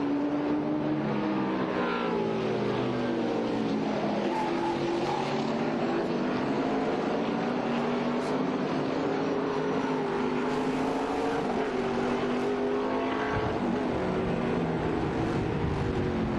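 Ligier LMP3 race car accelerating up through the esses at a road-course enduro, its engine note rising and shifting in a continuous loud roar over several passes, with no voices.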